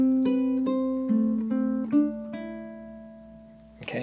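Ukulele plucking a measure of a song, a slow run of single picked notes ringing into each other, clear and close, ending with a brief rustle.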